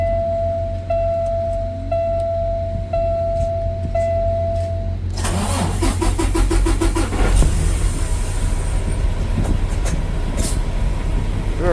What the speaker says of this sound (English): Let's see what happens when we turn the engine back on.